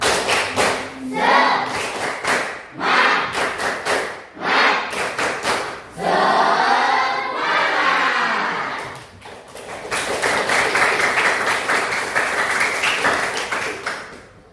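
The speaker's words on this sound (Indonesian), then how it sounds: "Tepuk semangat." A classroom group performs a rhythmic clapping cheer, sharp in-time hand claps repeating in steady bursts, then a stretch of voices chanting together and a final wash of loud, continuous clapping close by.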